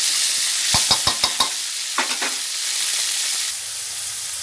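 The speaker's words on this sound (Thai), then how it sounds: "น้ำมันลงไปค่ะหนึ่งช้อนกับหนึ่งช้อนแกงเพื่อจะผัดพริกแกงให้หอมก่อนนะคะ พริกแกงลงเลยค่ะหนึ่งขีด" A ladle of curry paste fries in a spoonful of hot oil for a Thai kaeng khua curry with wax gourd and striped catfish. A quick run of spoon knocks and scrapes sits over a steady, close sizzling hiss, with no talk.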